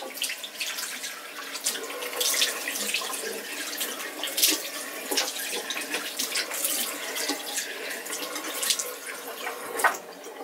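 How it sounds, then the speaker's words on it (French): Water runs steadily from a tap while a face is rinsed at a sink, a continuous close splashing flow with small irregular splashes and no speech. "Donc je me rince le visage."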